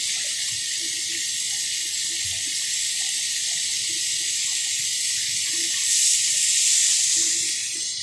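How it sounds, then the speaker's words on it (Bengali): Water poured into hot fried spices for a cauliflower and potato fish curry, giving a steady loud sizzling hiss that swells briefly near the end, with no talking. "এবার আমি এর মধ্যে পরিমাণ মতো জলটা দিয়ে দেবো।"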